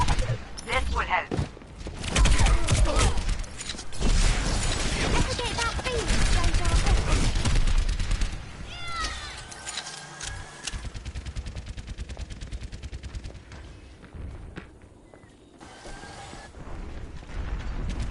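Dense rapid gunfire in a combat game, loud sustained bursts and overlapping shots that thin out midway and return, with voices talking over the shooting.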